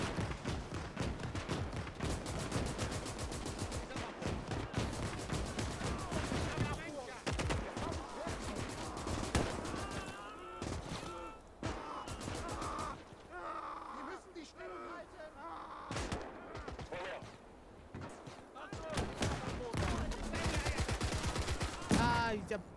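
Rapid gunfire from a war video game with the Talvisota DLC crackles in bursts and volleys, mixed with a voice talking over parts of the shooting.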